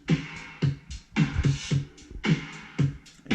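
A layered drum-sample beat of kick, snare and hi-hats plays in a steady, punchy groove with regular hits, loud and alone with no voices.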